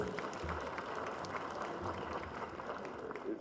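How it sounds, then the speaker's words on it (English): An audience at an app launch event applauds a live band after its set, a faint, steady wash of distant clapping that continues evenly throughout. "Let's give them a proper round of applause, please"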